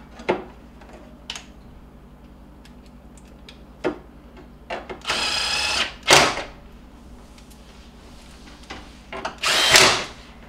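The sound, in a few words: power tool driving screws to refit refrigerator control board cover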